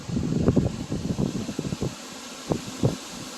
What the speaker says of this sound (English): That wind is crazy.